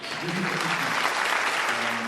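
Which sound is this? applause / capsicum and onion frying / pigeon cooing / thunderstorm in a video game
applause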